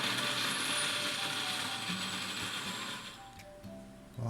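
Plum, yuzu and a little syrup for a vegan tart being ground, giving a continuous scraping, ratcheting grind that stays steady and close, then thins and falters toward the end.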